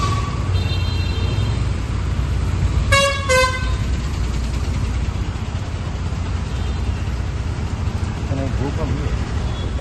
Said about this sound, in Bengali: ওরে বাপরে, এইরকম লম্বা জ্যাম।